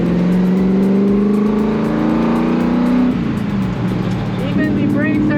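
A Ford GT40 race car driven at a vintage car meet at Clark Speedway in the Philippines, its engine droning loud and steady as the pitch climbs, dips, then settles, with a voice talking over it.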